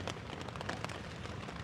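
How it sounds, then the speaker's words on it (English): Heavy storm rain drums steadily on a camping tent beside a rising creek, a dense continuous patter with scattered louder drops and no one talking. "the rain is freaking nuts. It has not let up even a little bit."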